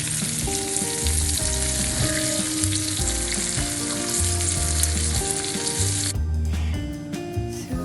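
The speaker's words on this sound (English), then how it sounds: "I'm going to shallow fry the fish now" Fish shallow-fries in a pan of hot oil, a loud, close, continuous sizzle and crackle with occasional stirring or shifting in the pan, ending in a lower, quieter spitting.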